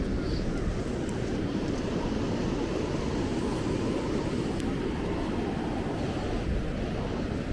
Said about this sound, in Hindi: So this beach is called Gokarna Beach